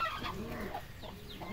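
Gamefowl rooster clucking in short, soft bursts close by, set against steady background noise, with no voices.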